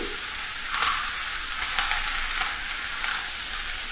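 Garlic and onion fry in oil for a Kerala prawn mango curry, giving a steady bright sizzle with a few stirring scrapes and small bursts of crackle.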